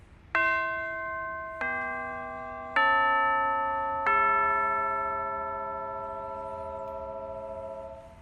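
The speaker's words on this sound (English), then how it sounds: "Now I'll show you what the soft side of the chime mallet sounds like." Orchestral tubular chimes struck with the soft side of a chime mallet, four clear bell tones spaced about a second apart, each ringing on and overlapping into a long, slowly fading sustain.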